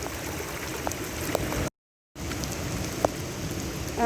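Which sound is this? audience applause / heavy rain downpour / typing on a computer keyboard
heavy rain downpour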